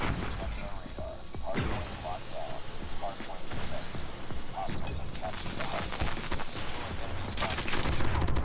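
Rapid gunfire from hip-firing in COD Mobile: dense, continuous shooting and impact noise fills the scene, with a player talking over the action throughout.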